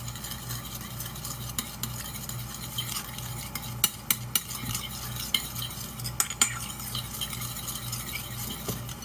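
Apple cider vinegar mixture being stirred with a utensil in a bowl for a vegan sweet and spicy dish, soft steady swishing with a few light clinks of metal against the dish, fairly quiet and close.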